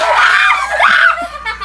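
A child screams in high, wavering bursts during a family tower cup-stacking challenge game, loud and close, with brief excited cries sliding up and down.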